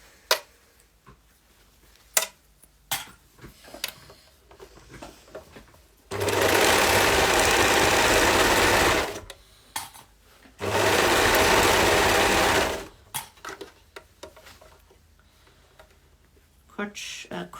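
A sewing machine stitches the crotch seam of a pair of leggings in two long, loud, steady runs, with clicks and handling sounds and a person speaking between the bursts.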